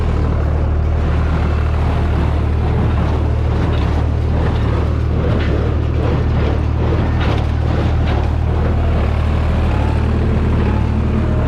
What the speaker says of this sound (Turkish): Traktörümüz kendi kendine gide koysun.